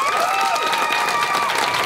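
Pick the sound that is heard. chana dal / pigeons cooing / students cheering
students cheering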